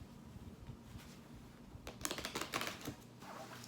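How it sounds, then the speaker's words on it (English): A deck of reading cards shuffled by hand up close: a quiet stretch, then a short burst of rapid, papery clicks and riffles in the middle, fading to soft handling sounds, with no talking. "So make sure I shuffle them really well."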